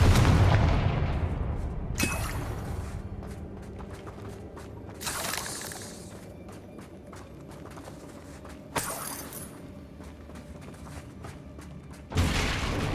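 Confringo fire spells explode in the Hogwarts Legacy video game, a booming blast at the start, then sharp cracking bursts at intervals with rumbling decay between them, loud and percussive with no talking.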